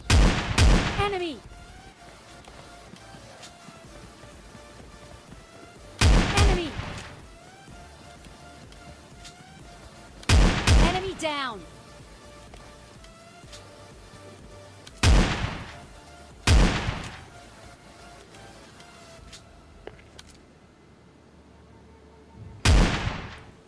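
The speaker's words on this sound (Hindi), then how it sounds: "और भाई शॉट गन से तुम्हारा भाई इसको पेल देता है" Shotgun blasts in PUBG Mobile Lite boom out in six loud, separate reports spaced several seconds apart, each one decaying with a short echo over quieter game ambience.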